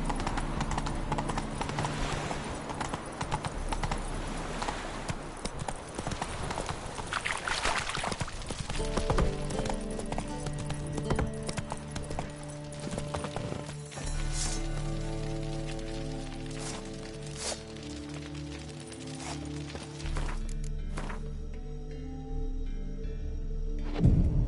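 Roach, a horse in the video game The Witcher 3, gallops with rapid, rhythmic clip-clopping hooves that stay steady and close, over game ambience that shifts partway through.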